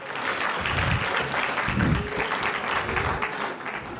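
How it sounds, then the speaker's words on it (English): Applause from a commencement audience, a dense, fairly loud clapping crowd, continuous for several seconds with some low rumble beneath. "Why don't we give Tony Massengale a big round of applause for his work,"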